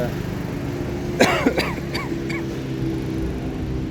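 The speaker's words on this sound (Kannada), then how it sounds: "ಸಾರಿ ಕೆಮ್ಮಿದೆ" A person gives a short, sharp cough in a couple of bursts, followed by a faint throaty sound over steady background noise.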